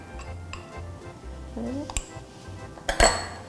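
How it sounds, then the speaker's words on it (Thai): A spatula beating a melted white chocolate mixture in a bowl for a strawberry cornflake pie, with soft scraping and a couple of sharper clinks against the bowl near the end and a faint voice in the background. "แล้วก็ตีส่วนผสมต่อค่ะให้เข้ากัน"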